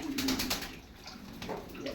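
Soft pigeon cooing repeats at a steady low pitch over a wet, splashing background of pigeons being bathed, moderately close.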